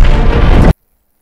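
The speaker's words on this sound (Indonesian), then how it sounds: "Dan saat Zeus berhasil mendapatkan cakramnya Flynn, dia pun meledakkan tempat Zeus tadi." A loud film explosion with a wide boom and crashing debris fills the scene, then cuts off abruptly into silence.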